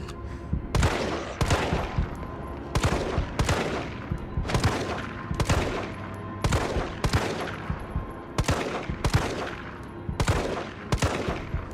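Repeated gunshots in Resident Evil 3, about a dozen sharp, loud reports fired at a steady, unhurried rhythm with a decaying tail after each, no talking.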